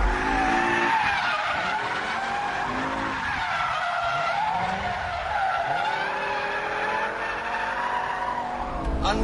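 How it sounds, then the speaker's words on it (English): A BMW M5 corners hard at high speed on a race track, its engine roaring loudly while the tires squeal and skid continuously through the bend. "Understeer there at high speed, with a snap of oversteer at the end."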